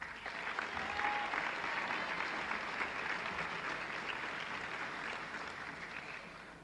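Sustained applause from a crowd at Al Akhawayn University's fifth commencement ceremony, fairly loud and steady, fading slightly toward the end, with no talk over it.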